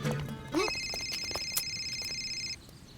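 An electronic telephone ringtone trills steadily for about two seconds, clear and close, after a brief voice at the start.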